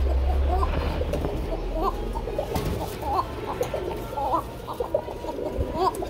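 Kuka pigeons cooing in a loft, repeated soft throaty coos in an irregular rhythm, close by, with faint background chatter.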